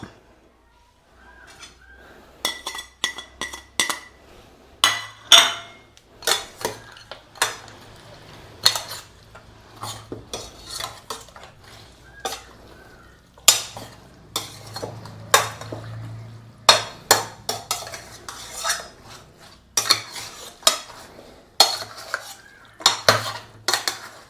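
Metal spoon scraping and clanking against a pot while mutton stew is stirred with pepper, garam masala and salt, repeated close scrapes and taps in an irregular rhythm over a low background hum, with no voices.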